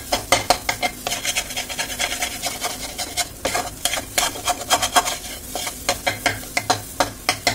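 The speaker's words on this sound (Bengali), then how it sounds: "এবার এই মশলাটার সঙ্গে ভালোভাবে আমি পুরটাকে এইভাবে নেড়ে নিলাম, মিশিয়ে নিলাম" A spoon scrapes and stirs pumpkin and green pea filling with a fried spice mix in a pan for kumro dhoka, giving rapid rhythmic scraping strokes with a light sizzle underneath, close and fairly loud, with no talking.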